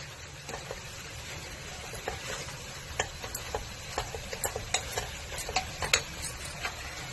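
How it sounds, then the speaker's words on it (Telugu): Mutton kurma with a handful of coriander and mint leaves simmers in a pan, giving a quiet, continuous bubbling hiss broken by soft, irregular ticks and taps from stirring. "1 గుప్పెడు పుదీనా వేసేసి ఇది కూడా కొద్దిగా సేపు మనం ఉడికిద్దామండి."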